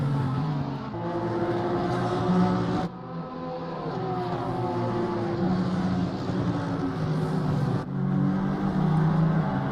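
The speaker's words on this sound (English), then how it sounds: "So Collis is pressuring and trying to get through Olsen" GT3 race cars lapping at Zolder in Assetto Corsa Competizione, several engines droning and rising together in a loud, continuous pack with shifting pitch and short dips between gears, no talk.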